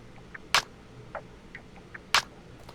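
Two sharp sampled claps land on beats two and four of a slow 75 BPM FL Studio beat, crisp and isolated over a quiet bed of faint ticking percussion.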